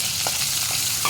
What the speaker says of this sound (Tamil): மிக்சியில் அரைச்சி வச்சுருந்தா பழுத்த தக்காளி அதை நல்லா